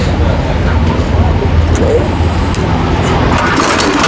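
A homemade mini tractor engine runs with a loud, continuous, rough rumble out in the open, while a voice talks underneath.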